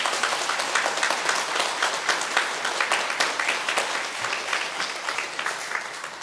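A church congregation applauding at a Sunday afternoon service, dense steady clapping from many hands filling the room for several seconds, fairly loud and without talk.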